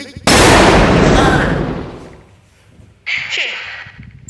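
A single loud gunshot crack at close range in a Thai drama, decaying over a couple of seconds, followed by a sharp shout or scuffle sound.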